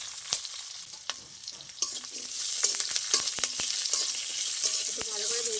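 Whole cumin, chopped ginger, whole chilies, cashews, melon seeds and raisins sizzle in hot oil in a pan, a steady fry with scattered scrapes and clinks of a spatula stirring, close and moderately loud.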